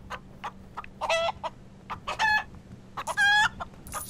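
Electronic, toy-like clucks from a chicken hat in the Lego Hobbit video game come in short bursts, with a few longer squawking calls mixed in, close and fairly loud.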